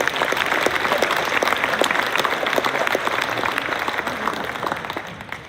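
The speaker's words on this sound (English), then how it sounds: "Let's give these sophomores a round of applause," Sustained applause from an audience at a varsity sports award program honoring sophomores, a steady dense patter of many hands clapping throughout, fairly close and even, fading slightly at the end.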